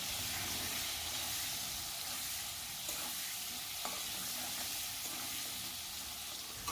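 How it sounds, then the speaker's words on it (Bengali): Potatoes with salt and turmeric fry in oil, giving a continuous faint dense sizzle with a few soft stirring knocks and no voices. "আলুটাকেও আমি নুন হলুদ দিয়ে ভালো করে ভেজে নেব।"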